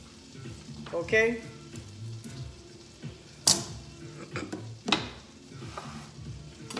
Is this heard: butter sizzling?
yes